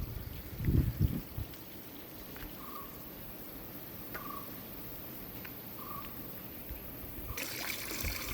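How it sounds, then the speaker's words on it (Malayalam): Stream water runs through a pipe at a cardamom estate in Idukki, a steady, close pouring and trickling rush that carries on without a break. "ഈ വെള്ളം തോട്ടിൽ നിന്ന് വരുന്ന വെള്ളമാണ്"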